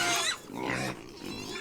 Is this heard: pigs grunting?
yes